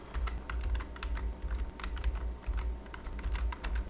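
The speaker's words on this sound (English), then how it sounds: "now let's type in our command" Rapid clicking of keys on a computer keyboard as a command is typed, close and clear, in uneven bursts with short pauses and no voices.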